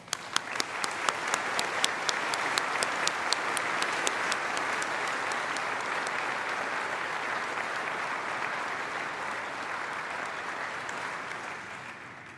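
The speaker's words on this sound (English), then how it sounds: "Please join me in thanking them with a well-deserved round of applause." Audience applause fills the hall at a university graduation ceremony for Art & Design graduates, a dense, steady wash of many hands clapping that holds loud and even throughout before easing slightly at the close.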